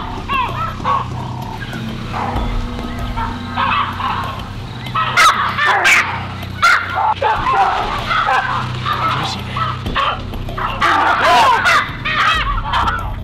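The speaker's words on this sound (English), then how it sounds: "There are hundreds of impala running around us. The baboons are going crazy." Excited calls from baboons fill the wild bush, with hundreds of impala running nearby. Harsh barks and shrieks rise repeatedly over a constant noisy background, close and loud, with some talk mixed in.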